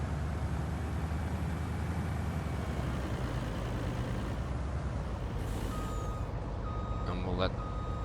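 A cheap truck in Farming Simulator 19 backs up, its reversing beeper chirping a few times near the end over a steady engine rumble and air-brake hiss, with a voice talking throughout.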